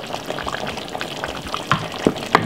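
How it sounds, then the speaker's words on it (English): Potato dropped into a pot of curry chicken cooking at home, a soft sizzling bubble with a few small splashes and clinks near the end, close and moderately quiet. "First thing what we're going to do is to put in the potato."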